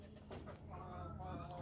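Domestic country pigeons coo softly from their cages, low and fairly distant, while someone speaks over them.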